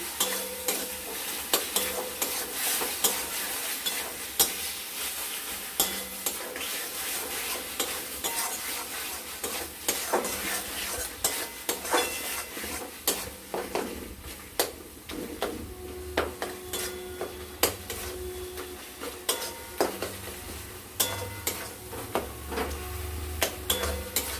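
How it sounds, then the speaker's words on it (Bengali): Spice masala for a fish curry with bori being fried in a pan, a continuous sizzle under rapid, repeated spatula scrapes and taps throughout, close and steady with no voices. "প্রায় কষা হয়ে এসছে, আরও একটুখানি আমরা কষে নেব।"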